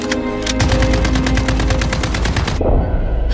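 Rapid automatic gunfire from a Halo Reach battle, a dense continuous burst of loud shots lasting a few seconds before cutting off into lower rumbling.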